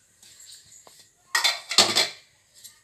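Metal spoon scraping and clinking against a pan while spice powder of ground peanuts, sesame and cloves is stirred into tender okra curry, a few soft taps then two louder bursts of stirring close by.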